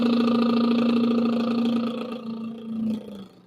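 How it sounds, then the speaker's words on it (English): A singer doing a voiced lip trill in a voice lesson, a steady buzzing, fluttering tone held for about three seconds before fading out, close and loud. "now we're going to do all lip trill with sound."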